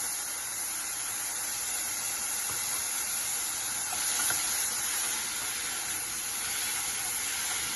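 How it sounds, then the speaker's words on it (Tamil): Mixed vegetables sautéing in coconut oil give off a steady, even sizzle and hiss that runs unbroken from start to finish, moderately close, with no voices. "வெஜிடபிள்ஸை வந்து ஒரு 2 மினிட்ஸ்க்கு தேங்காய் எண்ணெயில நல்லா வந்து சொட்டே பண்ணிக்கோங்க"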